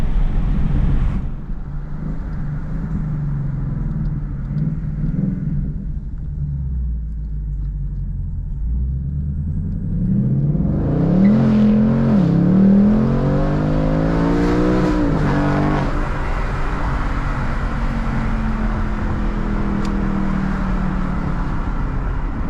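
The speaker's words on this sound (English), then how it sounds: "Bounce off the rev limiter there." A Ford Mustang Mach 1 engine idles with a low rumble, then revs up hard several times, the pitch climbing and bouncing off the rev limiter before dropping back to idle.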